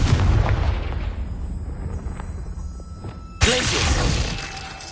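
Confringo fire spell exploding in Hogwarts Legacy: a sharp, loud blast bursts in late after a rumbling, noisy stretch, then its crackling debris rings on to the end.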